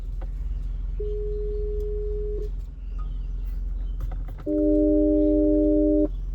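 Park assist chime tones from a 2025 Tata Nexon's infotainment system: a single steady electronic beep held for over a second, a tiny blip, then a louder, richer two-layered tone sustained for almost two seconds, all over a low cabin hum.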